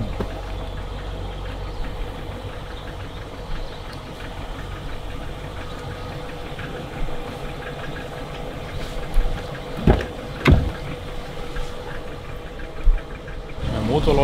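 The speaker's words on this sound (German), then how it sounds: "Der Motor läuft leise, ne?" A BMW E38 740iL sedan engine idles quietly with a low, steady hum, while people talk nearby and a couple of sharp thumps break in near the end.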